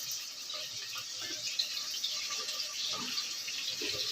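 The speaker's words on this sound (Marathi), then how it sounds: "स्वच्छ 2-3 पाण्याने धुवून घ्यायचं।" Soybean chunks being rinsed in water in a home kitchen: a steady, fairly soft wash of running, splashing water with small irregular splashes throughout.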